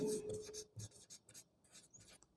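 Chalk or pen scratching out an equation in quick, faint, irregular strokes and taps, close and quiet in a classroom setting.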